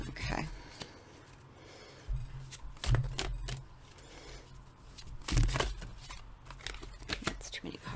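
Tarot cards being shuffled, soft papery riffles and slaps in short bursts, fairly close and quiet, with scattered handling noise between them.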